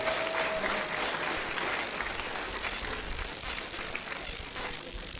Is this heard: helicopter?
no